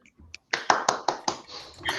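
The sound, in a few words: applause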